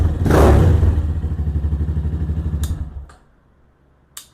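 A Venom Ghost Chopper 250 motorcycle engine runs loud and close with a steady, rapid thumping idle that then cuts off, leaving near-silence broken by a couple of brief clicks and a small knock.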